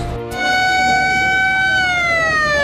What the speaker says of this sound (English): An ambulance screeches up to one of the few remaining hospitals in Hodeidah.